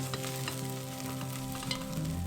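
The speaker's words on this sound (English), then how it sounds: "We just want to give some more flavor with the frying process." Vegetables sizzle steadily in a hot pan for a Turkish weeknight dinner, a continuous close frying hiss with faint crackles and stirring, no voices.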